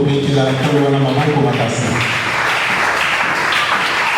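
A church congregation in Angola applauds, a steady broadband wash of clapping that fills the space while a voice speaks or sings over the start, then the clapping carries on alone.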